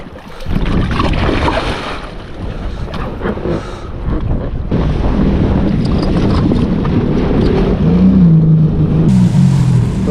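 Modified Sea-Doo Spark personal watercraft with a free-flow exhaust, its engine droning and rising in pitch as it runs on open water, steady and loud with heavy wind buffeting throughout.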